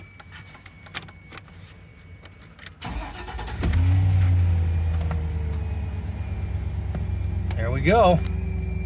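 An old pickup truck engine cranks and catches a few seconds in, then settles into a steady, rumbling idle close by, with a brief spoken remark over it near the end.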